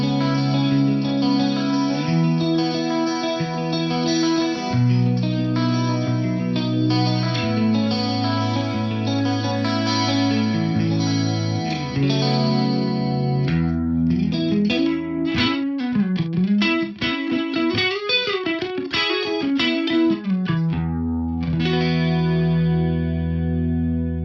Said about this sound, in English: this 8-voice detune is amazing on clean sounds as well